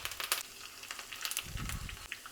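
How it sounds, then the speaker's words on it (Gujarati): Mustard seeds, green chili pieces and sesame seeds crackle and sputter in hot oil in a small tempering pan, a quiet, irregular popping sizzle with no talk. "તડકા પેનમાં મેં તેલ ગરમ કરી લીધું છે. તેલમાં 1 ચમચી જેટલી રાઈ ઉમેરશું."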